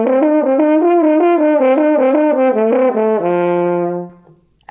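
A solo horn slurs smoothly up and down through a series of open harmonic steps, each note connected, ending on a sustained low tone that fades out.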